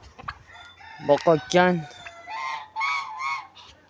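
Domestic poultry, chickens and geese, heard close: a rooster crow and loud goose honks in a few bursts, with a brief voice at the start.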